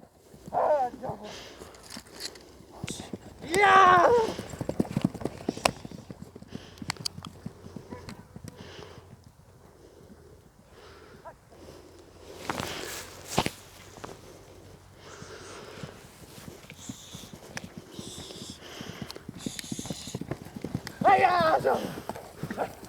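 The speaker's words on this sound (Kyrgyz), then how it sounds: "Мына көрүңүздөр аттын күлүктүгүн ордунан алганын" A fast racehorse galloping, hooves clip-clopping in quick uneven bursts that rise and fade as it passes near and then farther away, with someone talking throughout and an occasional snort.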